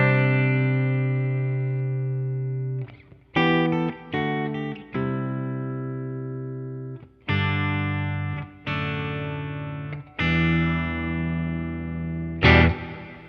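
Sustained electric guitar notes and chords ring out in a series of phrases, each trailing into a long, dark, spacious reverb tail from a TC Electronic Hall of Fame reverb pedal.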